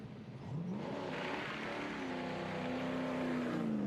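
MGB GT sprint car with an aluminium Rover V8 launching, engine note climbing steadily in pitch as it accelerates, loud and continuous after a quiet start.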